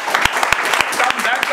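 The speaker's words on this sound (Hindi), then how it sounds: "थ्रू आउट इनके लिए जोरदार ताली बजाया" Loud applause from an audience at a chip-level mobile repair training event, dense clapping throughout with a few sharper individual claps standing out.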